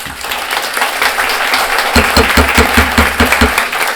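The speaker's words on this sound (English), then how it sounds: "if we could not have any applause or anything" An audience at a Planning & Development Commission board meeting breaks into applause. The clapping is dense, and sharper claps come through in the second half.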